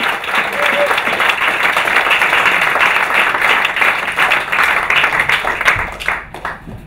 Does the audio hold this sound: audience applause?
yes